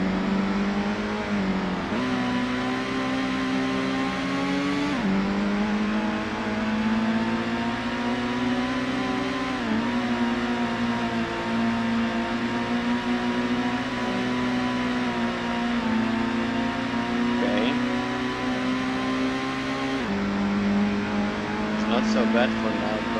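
Race car engine in Gran Turismo, a black GT1 turbo, droning at high revs with steady sustained pitch and brief drops at gear shifts every few seconds, continuous and prominent, with a voice talking over it.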